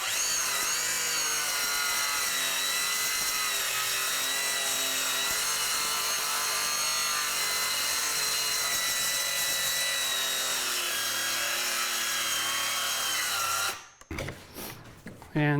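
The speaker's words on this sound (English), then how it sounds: "You can hear how hard the saw is fighting, even with the really good quality blade on there." A battery-powered saw fitted with a good-quality blade labours through wood on a 45-degree cut, a continuous strained grinding whine that cuts off abruptly near the end, followed by a few brief clunks and handling noises.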